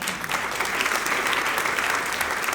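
A church audience applauding in a steady, dense round of clapping that runs the whole stretch at moderate loudness, with no voices on top.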